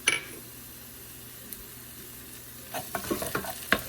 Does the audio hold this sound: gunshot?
no